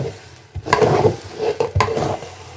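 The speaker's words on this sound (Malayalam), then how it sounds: "ഇനി നമുക്ക് വേവിച്ച് വെച്ച ആ ഗ്രേവി ഇതിലേക്കിട്ട് മിക്സ് ചെയ്യാം." Cooked chicken gravy mixed into biryani rice in a pot, with close, wet scraping and stirring and a couple of spoon clacks against the metal, moderately loud and with no talking.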